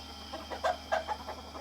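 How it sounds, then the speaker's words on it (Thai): Fighting-cock breeding roosters and hens on a rural property in Lamphun give a few short, close clucks in a quick irregular series over steady background noise. "ตรงนี้ จะเป็น ไก่ชน พ่อพันธุ์ แม่พันธุ์ ทั้งนั้นเลยนะ"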